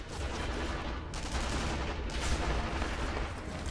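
Sniper Elite V2 gunfire crackles in a dense, continuous volley, heavy and rumbling with overlapping shots and no clear gaps, staying at a fairly steady level throughout.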